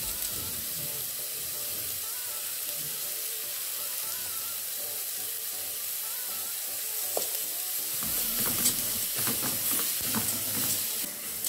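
Rinsed rice, 250 grams, going into a hot pan for Christmas-style Greek rice, with a steady close sizzle and hiss that grows louder and more crackly as it is stirred.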